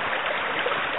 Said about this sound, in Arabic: هاي المي نازلة، وهي مي من مياه فكتوري